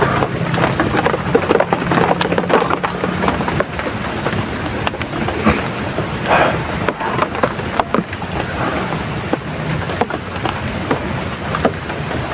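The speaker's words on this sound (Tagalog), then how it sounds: "Tapos ngayong hapon, biglang ulan." Sudden afternoon rain pours steadily, with a dense hiss and scattered crackling impacts, while low rumbles of thunder roll underneath throughout.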